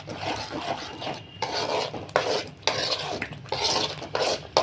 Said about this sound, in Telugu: దీనిని బాగా మిక్స్ చేసుకోవాలి కలుపుకోవాలి బాగా